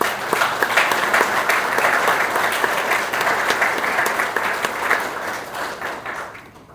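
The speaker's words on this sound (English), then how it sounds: "And another round of applause, please, for the family." A crowd at a retirement ceremony gives the family a warm round of applause, sustained clapping from many people that fades away over the last second.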